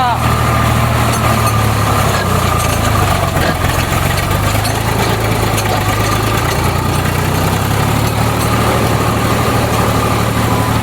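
A heavy tractor engine idles and chugs steadily throughout while ploughing a field, a continuous low rumble close by.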